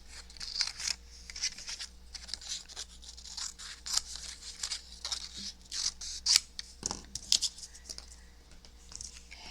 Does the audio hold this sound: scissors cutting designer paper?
yes